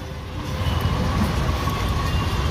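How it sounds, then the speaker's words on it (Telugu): A train rumbles past close by in Vijayawada, a loud steady roar of wheels and carriages with a low rolling clatter filling the whole stretch. "అటు కూడా చూడండి, అబ్బా ట్రైన్ వెళ్తా ఎంత అందంగా ఉందో"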